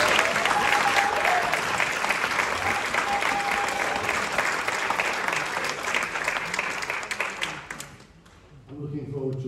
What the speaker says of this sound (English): One more round of applause for the percussion section